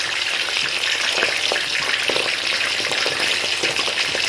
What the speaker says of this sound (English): I'm actually frying the fish